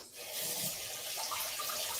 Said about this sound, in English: Let me wash my hands real quick.